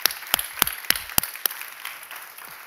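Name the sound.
applause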